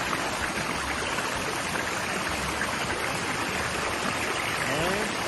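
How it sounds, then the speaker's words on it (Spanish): Water pours down a hidden waterfall into a stream and small pool, making a steady, close, broadband rush with no break. "vemos el agua que cae y allá arriba la cascada"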